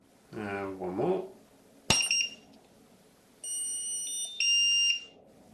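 Full-power pop from a Triopo speedlight (TR961, TR586 or TR982 model) right after a brief spoken phrase, then a quiet pause before two long, steady high-pitched recycle beeps from the flash units.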